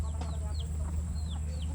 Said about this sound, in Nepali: चल्लाहरू छ यहाँनिर